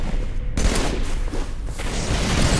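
Rapid gunfire in Halo 3 multiplayer, dense bursts of shots and booms firing almost continuously, loud and close.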